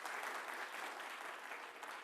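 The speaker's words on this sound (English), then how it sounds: "When I say 1, 2, and 3, you will clap thrice." An audience at a panel discussion event applauds on cue, a dense, steady burst of many hands clapping that fills the room for about two seconds, moderately distant and without talk.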